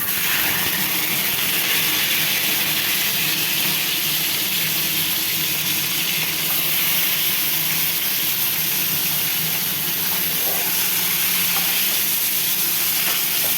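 Onion, garlic, carrot and ginger-garlic paste fry lightly in a pan, giving a steady, close, continuous sizzle and hiss that holds without a break and has no talk over it.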